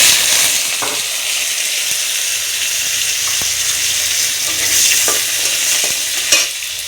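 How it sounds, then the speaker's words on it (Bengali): Potatoes fry in hot oil in a pan with a loud, continuous sizzle, broken by occasional clinks and scrapes of stirring, and no voices. "এবার আমরা আলুগুলো ভেজে নেব।"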